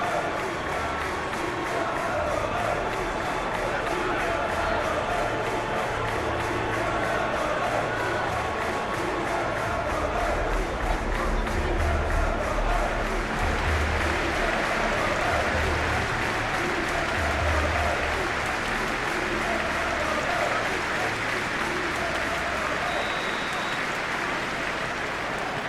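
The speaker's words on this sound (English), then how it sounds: "a capacity crowd here" Capacity stadium crowd applauding before a Premier League match in the PES 21 football video game, a dense continuous roar of clapping and cheering that stays loud throughout.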